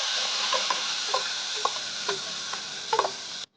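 Dhoka lentil batter sizzles in hot white oil in a wok, a steady hiss broken by a few light taps and scrapes, heard up close with no talking before it cuts off.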